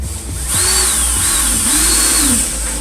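Screw being driven into the wood of a DIY window box with a power drill, a steady whining motor that rises and dips in pitch across the clip, close and loud with no talk.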